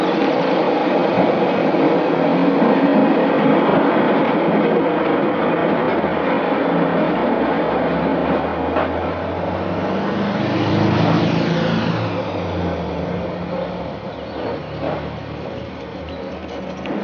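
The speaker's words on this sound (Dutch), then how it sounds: "Een Solex reutelt met de tram en met een Volkswagen Kever in zijn kielzog bergopwaarts." A 1950 tram in Nijmegen climbing a hill, followed by a rattling Solex moped and a Volkswagen Beetle, producing a continuous rumbling, droning mechanical roar with shifting engine tones throughout, fairly loud and without talk.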